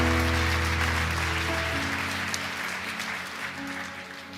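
A church congregation claps during an evangelical sermon, a broad sustained applause over a low musical drone that slowly fades toward the end.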